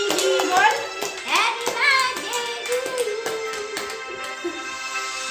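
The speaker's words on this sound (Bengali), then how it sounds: "জোরে জোরে হাততালি দে" Several people clap their hands in an uneven, repeated rhythm, close by and moderately loud, while children call out and sing over the claps.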